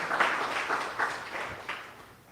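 Brief burst of audience applause at a design meetup, fairly quiet and distant, fading out over about two seconds.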